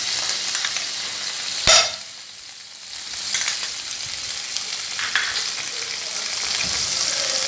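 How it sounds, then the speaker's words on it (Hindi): Butter melting and sizzling in a frying pan for white sauce pasta, a steady crackling hiss with a sharp clatter near the start and a few smaller knocks, no talking. "सबसे पहले हम अपना ये 2 टेबलस्पून जो है वो बटर ऐड करेंगे फ्राई पैन में।"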